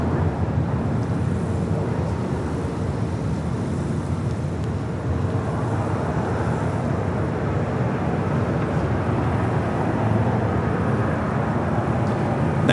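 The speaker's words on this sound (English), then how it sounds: "Next takeoff, another United flight." A United Airlines Boeing 757 taking off at LAX, its steady broadband engine roar held loud and constant throughout, mixed with wind rumble on the microphone.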